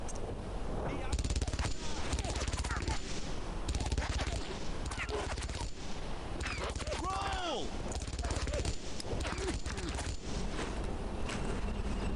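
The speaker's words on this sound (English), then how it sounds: "there's an MG there" Heavy machine gun fire in the World War II shooter Brothers in Arms: Earned in Blood, loud and continuous rapid bursts, with game effects layered throughout.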